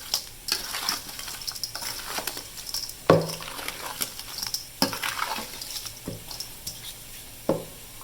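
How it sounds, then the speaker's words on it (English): Beef tips are mixed with Lipton onion soup mix in a bowl, giving soft wet squelching and stirring sounds with a few louder knocks against the bowl, close and moderately quiet, with no talking. "And then you mix it really good."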